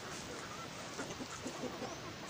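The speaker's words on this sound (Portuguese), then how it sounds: "Aqui tem uns pintinhos aqui." Soft clucking and faint peeping from chickens and chicks, heard at low level over a hissy background.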